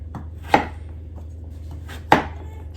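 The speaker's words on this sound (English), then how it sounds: "if you want a quick dinner, do not do a butternut squash, because you will be chopping this thing for a while" A knife chops through a butternut squash on a cutting board with two sharp, solid thunks and a few lighter cuts between them, close up over a low steady hum.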